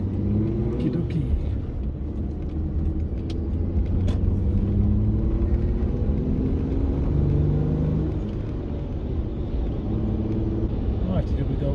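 Mazda Miata rolling onto a sand road, a steady low engine and tyre rumble heard from inside the car for several seconds, with no one speaking.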